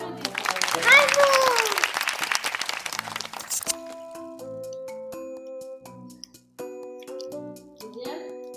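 Short burst of family applause and cheering during a hot-weather ice cream challenge, loud and close for about three seconds, followed by tinkling chime-like tones and scattered voices.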